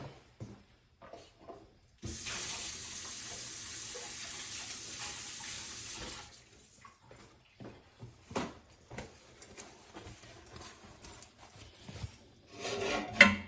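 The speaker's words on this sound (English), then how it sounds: "Let me wash my hands and then we could keep going." Kitchen tap water runs steadily for about four seconds into a sink during hand washing, close and moderately loud, followed by scattered rubbing and handling noises.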